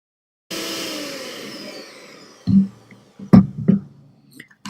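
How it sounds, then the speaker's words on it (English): An electric mixer beats chocolate cupcake batter after the final egg goes in, a loud steady motor whir that winds down, followed by several knocks and clatters against the bowl. "we're going to add our final egg. And mix one last time."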